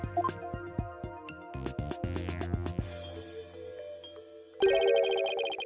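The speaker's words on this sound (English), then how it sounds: "The sound of bells changes to the sound of water at one point." Bell-like footsteps from the Ace Attorney Spirit of Justice video game chime in an uneven series of bright, tinkling strikes, then shift to a louder, denser tone near the end, with no talk.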